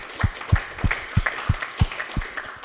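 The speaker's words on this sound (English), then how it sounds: "a big applause to Elena for organizing the event" An audience at a Scala tech meetup claps in a steady, even rhythm of about eight distinct claps spaced roughly a third of a second apart, close and moderately loud with no talk over it.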